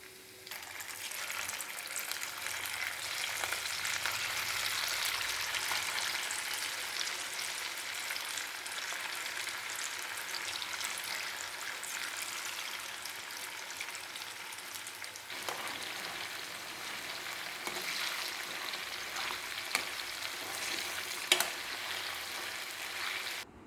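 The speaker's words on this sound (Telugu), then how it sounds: "ఈ విధంగా కొద్దిగా ఎరుపు రంగు వచ్చే వరకు వేయించుకొని" Chicken pakodi deep-fries in hot oil with a steady, dense sizzle and crackle that runs without a break, with a faint liquid bubbling underneath and no voices.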